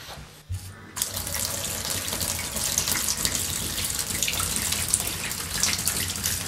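Steady, full-flow rush of hot water from a bathtub mixer tap, running continuously at close range after a brief start, with no voices.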